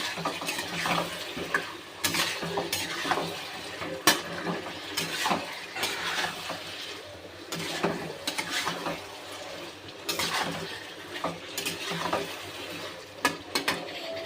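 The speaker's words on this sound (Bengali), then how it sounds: "এবার আমি আলুগুলো দিয়ে দেব, দিয়ে ভালো করে কষে নেব" Potatoes are stir-fried in a pan, with steady frying hiss under repeated spatula scrapes and metallic clinks against the pan. Strokes come in irregular bursts and are close and fairly quiet.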